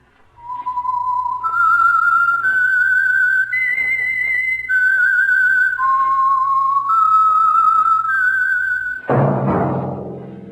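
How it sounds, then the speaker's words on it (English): Signature whistled theme of the radio mystery show The Whistler, a clear solo melody of sustained notes stepping up and down, ending in a sudden orchestral chord. "That whistle is your signal for the Signal Oil Program, The Whistler."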